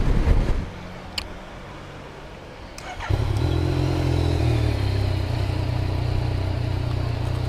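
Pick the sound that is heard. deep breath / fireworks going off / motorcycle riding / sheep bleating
motorcycle riding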